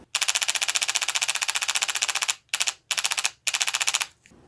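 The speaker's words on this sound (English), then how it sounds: "This one does have the E trigger, so we can go full auto" A paintball marker with an electronic trigger fires full auto in rapid, evenly spaced close bursts: a long string of shots, then several shorter volleys separated by brief pauses.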